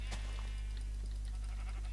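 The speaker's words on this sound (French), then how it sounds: "on va commencer par défoncer les moutons" Sheep bleating in Minecraft, a single short synthetic bleat near the start over a steady low electrical hum, with faint quieter game sounds scattered after it.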